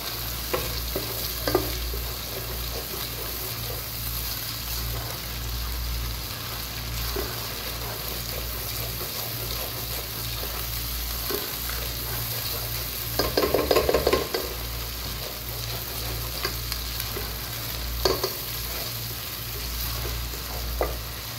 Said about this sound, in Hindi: अभी और थोड़ा सा मैं इसको भुनाई करूंगी